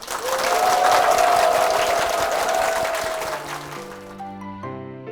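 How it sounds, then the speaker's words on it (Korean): Church audience applauding after an introduction on a Korean Christian broadcast, a dense wash of clapping that swells then fades as soft piano music enters near the end; a faint voice rides along on top. "여러분 큰 박수 부탁드리겠습니다."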